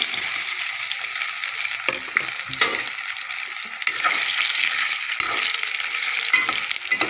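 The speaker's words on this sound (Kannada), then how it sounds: "ಎಣ್ಣೆ ಬಿಸಿಯಾಗಿದೆ ಇವಾಗ ಆಲೂಗಡ್ಡೆನ ಹಾಕಿ ಕೆಂಪಿಸಾಗೋ ಥರ ಹುಡ್ಕೊಳ್ಳೋಣ" Potatoes fry in hot oil for a Bengali-style potato chicken fry. Close sizzling swells and fades as a spatula stirs and scrapes through them in uneven bursts, and no one speaks.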